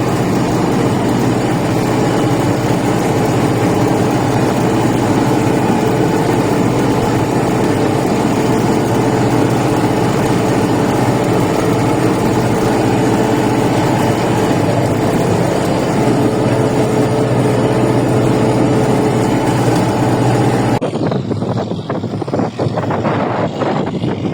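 A farm vehicle's engine running loud and steady with a heavy low drone for about twenty seconds, then dropping away abruptly as it drives off, leaving faint scattered noises and no talking.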